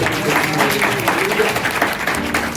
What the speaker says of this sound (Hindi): जोरदार तालियां बजा के